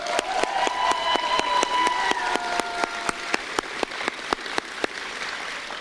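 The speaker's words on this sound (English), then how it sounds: "Will you please give him an additional round of applause for this amazing achievement?" A commencement crowd at a high school graduation applauds a graduate's achievement: a wash of clapping with a few faint cheers, then louder distinct claps ringing out near the end.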